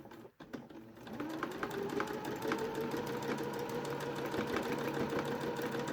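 A sewing machine stitches a dungaree pocket, its motor starting up after a brief pause and then running steadily with a fast, even mechanical whir and needle clatter, close and loud, with no talking.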